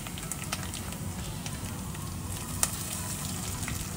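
Chopped onions frying in a pan of oil for Lahori chole, a steady dense sizzle with fine crackles and pops that holds evenly throughout at close range, with no talking.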